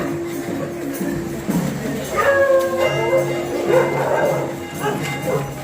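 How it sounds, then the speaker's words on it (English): Dogs bark repeatedly at Swayambhu, the Monkey Temple in Kathmandu, with sharp yips and whimpering howls rising over a busy background murmur of voices. "They have heard the barking of dogs"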